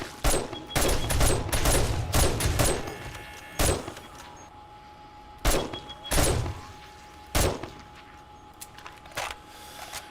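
Shotguns in the zombie survival game 7 Days To Die fire a quick cluster of loud blasts, then single booming shots spaced a second or two apart against a quiet background.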